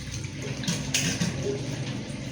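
Tap water running and splashing over freshly harvested vegetables for a side dish, a steady close wash with brief stronger bursts of flow.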